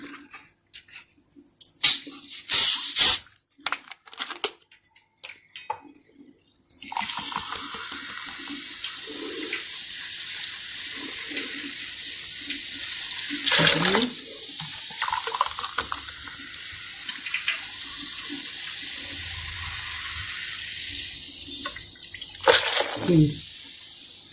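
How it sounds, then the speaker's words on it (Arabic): Two glasses of 7Up soda are poured onto beaten eggs, giving a steady close splashing, liquid pour that runs for several seconds, preceded by brief clinks and handling noises. "حطينا كوبايتين السفن على البيض بالشكل ده كده"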